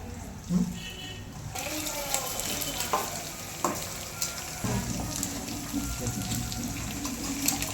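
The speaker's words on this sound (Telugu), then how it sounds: "ఇందులో ఆయిల్లో ప్రాన్స్ వేసాం కదా, ఇవి కొంచెం బాయిల్డ్ అంటే బ్రౌనిష్ కలర్లో వచ్చేంత వరకు ఆయిల్లో మంచిగా డీప్ ఫ్రై చేస్తూ ఇలా కలుపుతూ" Prawns deep frying in hot oil for a homemade prawn dum biryani, with a steady bubbling sizzle and occasional scraping knocks as they are stirred, running continuously at moderate volume.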